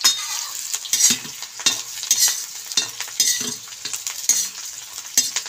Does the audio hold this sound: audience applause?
no